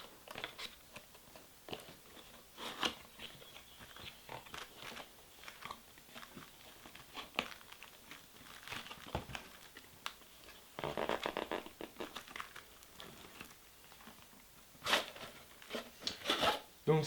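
Fireworks packaging being unwrapped by hand, with close, quiet crinkling, rubbing and scraping of plastic and paper in irregular bursts, a few sharper rustles near the end.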